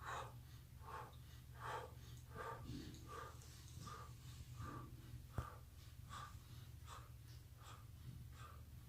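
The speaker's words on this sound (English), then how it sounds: "you have to hear yourself breathing as you stretch" Steady rhythmic breathing through the nose during a slow Systema stretching routine, about a dozen close, soft inhale-exhale cycles evenly paced, with one brief tap partway through.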